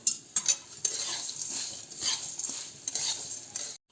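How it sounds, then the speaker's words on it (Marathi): Coriander seeds and roasted chana being dry-roasted together in oil in a pan, with steady scraping and stirring, soft sizzling and light metallic clinks of the spoon against the pan, close up. "आता आपल्याला हे धने आणि फुटाणे हे दोन्ही एकत्र भाजायचे।"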